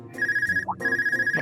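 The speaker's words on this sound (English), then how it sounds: "Phone call." Phone ringtone in the Trails of Cold Steel II video game: two bursts of a bright electronic trilling ring separated by a short gap, loud and clear with no talk.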